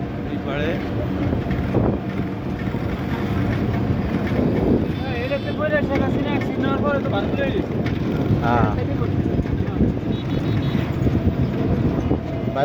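A motor trawler's engine drones steadily on a river during a festive outing, a loud continuous low rumble mixed with wind buffeting the microphone and people talking nearby throughout.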